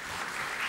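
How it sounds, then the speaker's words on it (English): Audience applause at a business chapter event, a dense, even burst of clapping heard only briefly and fairly loud, with no voices over it. "First, a round of applause for them."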